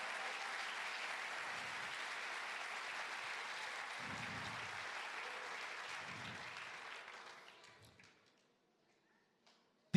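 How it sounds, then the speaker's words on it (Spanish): A church congregation applauds during a sermon, with steady, dense clapping that holds for about seven seconds before fading to near silence. "Eso merece un aplauso, pero con todas las fuerzas."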